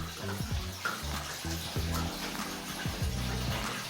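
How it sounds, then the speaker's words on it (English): Water pours into a new Fluval Flex 9-gallon aquarium set up with Anubias nana plants, a steady splashing fill heard close by over low, uneven background thumps. "it was time to fill up the aquarium"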